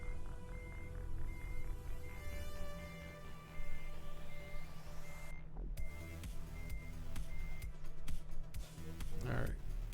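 A heavy truck reverses in American Truck Simulator in Wyoming, its backup alarm repeating as steady electronic beeps over engine rumble while someone talks over it.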